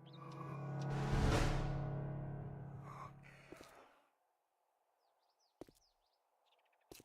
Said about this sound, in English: I heard breathing.